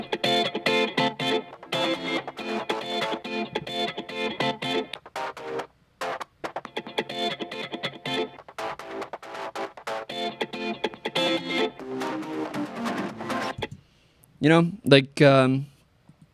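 A choppy rhythm guitar part plays in short, repeated bursts with brief gaps, ending with a short, warbling tonal phrase.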